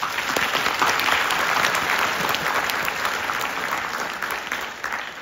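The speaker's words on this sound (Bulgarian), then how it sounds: "Аплодисменти за вас." Sustained applause from a large crowd at a bachelor's graduation ceremony, dense and steady clapping that fills the space and tapers slightly toward the end.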